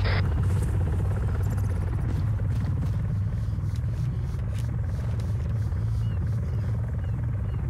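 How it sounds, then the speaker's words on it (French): Helicopter in a first-person shooter video game, a loud continuous rotor thrum and low rumble with rapid chopping pulses, steady and close throughout, with no talk. "Hélico inoffensif les gars."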